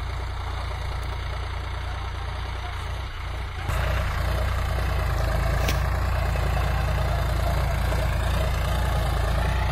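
A Solis 5015E 50 hp power-steering tractor engine runs steadily, a loud near low diesel rumble with a slight knock that steps up in level partway through and holds.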